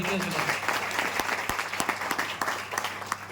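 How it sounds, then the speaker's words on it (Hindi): A meeting audience at a health awareness program breaks into applause, a close patter of many hands with sharper individual claps standing out, under a low steady hum and some voices. "एक बार जोरदार ताली होना चाहिए"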